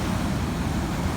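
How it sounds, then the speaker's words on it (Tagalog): Big surf rolls in after a typhoon, a steady broadband roar of breaking ocean waves with wind noise on the microphone, loud and continuous with no distinct breaks. "Lalaki ng alon, guys. Lalaki."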